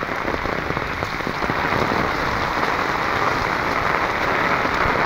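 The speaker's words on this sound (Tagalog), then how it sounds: "Grabe yung ulan mga kahagard." Heavy rain pours steadily onto surfaces outside a flooding house early in the morning, a dense, continuous hiss with scattered louder drops and no voices.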